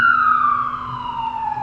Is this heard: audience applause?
no